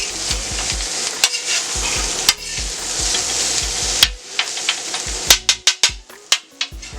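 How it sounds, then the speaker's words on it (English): Jambalaya sizzling and being stirred on a Steelmade griddle, a loud steady frying hiss broken by repeated scraping and clanking of a metal utensil, with the strokes quickening toward the end. "Alright, we're going to let that simmer."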